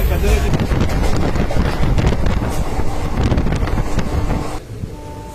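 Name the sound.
wind rushing into moving train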